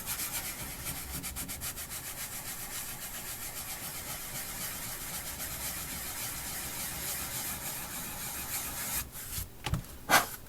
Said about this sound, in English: clean that up just taking a sanding sponge